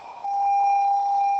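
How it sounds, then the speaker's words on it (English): A single loud, steady electronic beep holds one pure tone for over a second with no talk around it. "Sorry about that loud beep that you just heard in the video."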